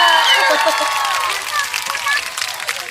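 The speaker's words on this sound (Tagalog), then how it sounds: "Oh, palakpak." A lively crowd claps and cheers together in a dense, steady burst that stays loud, then thins slightly toward the end, with excited voices mixed into the noise.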